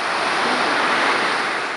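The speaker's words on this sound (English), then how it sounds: "With the sun down, you can listen to the waves." Steady roar of ocean surf washing continuously onto a shore, broad and fairly loud, with a breezy hiss and no voices.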